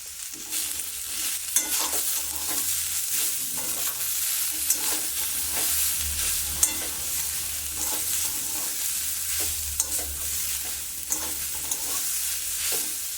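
Spice masala with green chillies frying in a pan, a bright continuous sizzle punctuated by regular stirring scrapes and occasional spoon taps, close and steady with no talking.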